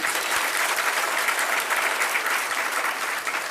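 Steady, dense applause from a crowd gathered for a religious discourse at Tilwara Ghat in Jabalpur fills the moment, continuous and even without a break.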